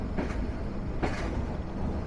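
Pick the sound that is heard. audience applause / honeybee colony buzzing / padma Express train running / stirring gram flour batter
padma Express train running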